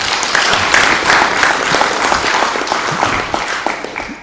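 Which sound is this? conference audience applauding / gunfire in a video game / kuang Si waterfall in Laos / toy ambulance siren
conference audience applauding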